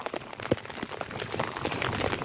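Heavy rain patters steadily on plants and surfaces in a rice field. The dense hiss is continuous, with sharper drops striking near the phone wrapped in plastic.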